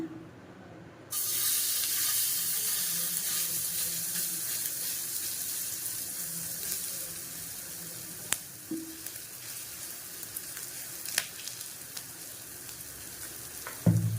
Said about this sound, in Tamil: இப்போ நான் ஒரு பேன் வச்சுருக்கேன் இதில் வந்து கொஞ்சம் எண்ணெய் ஊற்றிக்கிறேன்